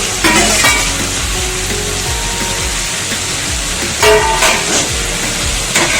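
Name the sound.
fried ridge gourd and potato added to sizzling masala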